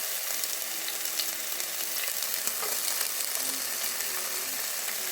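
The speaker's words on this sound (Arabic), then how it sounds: "راح نحمس البصل طبعا كل زين" Onions sautéing in a pan for a spinach and meat stew, a steady loud sizzle with occasional scraping stirs, no talking.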